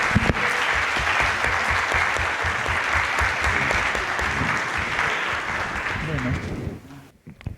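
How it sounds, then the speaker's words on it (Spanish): An audience at a philosophy lecture gives a lecturer a loud welcome with sustained applause that holds steady for several seconds, then fades out near the end. "yo pido aquí un fuerte aplauso para el doctor Álvaro Chaos"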